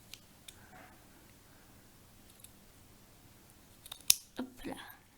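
Scissors snip material for homemade Schleich toy horse accessories, a few quiet isolated cuts followed by a louder close snip near the end, with faint whispered talk.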